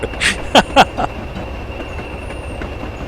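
A Class 20 diesel locomotive runs in Train Simulator on the Weardale and Teesdale line, giving a steady low rumble with a faint whine and a few short chirps early on.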